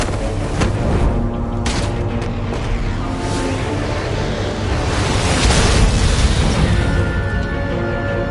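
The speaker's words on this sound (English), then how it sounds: "protect Iman and myself from the explosion" An explosion in Batman: The Enemy Within: a sustained, roaring rumble with crackling bursts, like a big explosion rolling on and swelling, loud and dense throughout.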